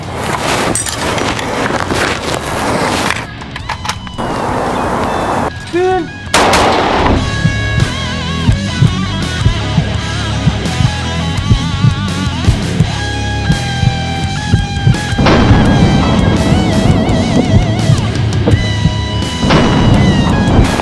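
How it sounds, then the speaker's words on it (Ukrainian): Gunshots from a weapon handling demonstration involving a magazine change: a couple of sharp, loud bangs early on, followed by a long stretch of steady, tonal background noise with small clicks. "Ми можемо зробити два постріли або навіть більше."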